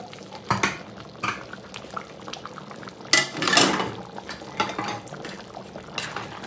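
Menudo with cheese being stirred in a cooking pot, with wet bubbling and scraping and clattering of a utensil against the pot in irregular bursts, one louder stretch midway.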